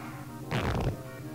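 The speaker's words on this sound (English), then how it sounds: "It sounds like a seam ripping fart." A crude fart sound effect from the Sega Genesis game Action 52 plays as a single raspy, ripping burst lasting under half a second over faint game background noise.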